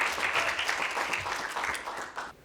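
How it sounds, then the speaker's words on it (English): A live audience bursts into steady, dense applause, many hands clapping at once in a continuous wash that fades slightly at the very end. "Big clap."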